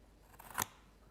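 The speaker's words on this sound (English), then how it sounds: "those of you who've got scissors and cut card will know what I mean by a satisfying cut" Scissors make a single crisp snip through card, held up close to a microphone in a quiet craft setting, brief and sharp with near-silence around it.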